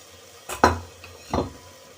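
A lid comes off a pot of simmering matki matar aloo curry, giving a short metallic clank and scrape followed by a soft bubbling hiss, close and brief.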